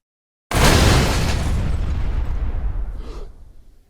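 A stacked explosive payload detonates in the game Space Station 14, a sudden loud boom after a moment of silence that rolls on as a long rumbling roar and slowly fades.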